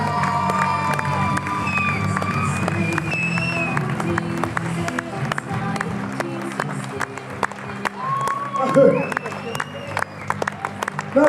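A large event crowd applauds and cheers for seven world-class powerlifters at a powerlifting competition. Dense, steady clapping runs the whole time, with whoops and shouts rising near the end and voices mixed into the crowd noise.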